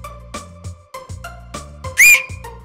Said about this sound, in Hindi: तू सीटी मत मारे करे